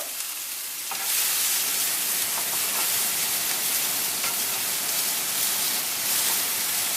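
Onions frying in hot oil in a pan at a footpath fried rice stall, a steady loud broadband sizzle that jumps up after the first second and holds continuously with faint crackles, no talk.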